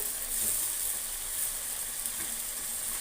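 Water poured into a hot pan of spinach curry with potatoes and vegetables, giving a brief steady hissing sizzle that stays fairly soft and even throughout.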